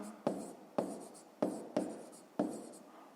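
Pen writing on paper in five short strokes, each starting with a sharp scratchy onset and trailing off, spaced about half a second apart, close and quiet with no talk.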